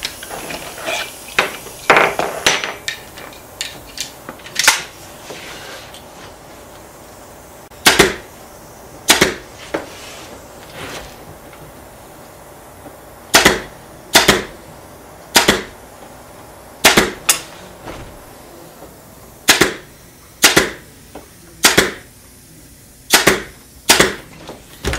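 Sharp staple-gun shots as upholstery fabric is stapled onto a formerly caned chair; loud, close single cracks spaced irregularly, a second or two apart, over a quiet room.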